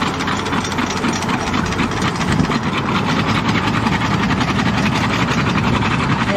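A tractor-driven potato digger runs in a field, its engine droning loudly and steadily while the shaking mechanism rattles and clatters continuously as it shimmies dirt off the potatoes.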